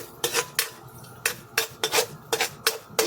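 Garlic and onion sautéed in a pan with oil: a metal utensil scrapes the pan in about ten quick, loud strokes in a brisk rhythm, close by, with no talking.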